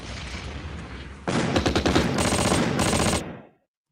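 Rapid machine-gun fire rattles in a World War II Ardennes offensive video game, a dense burst of bursts lasting about two seconds after a softer rumbling lead-in, then cutting abruptly to silence.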